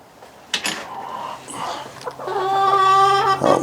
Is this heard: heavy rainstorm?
no